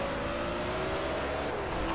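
Race cars in the game Project Cars, including a BMW M1, roar past in a constant engine drone with shifting tones, moderately loud, while a spotter's voice calls positions over it.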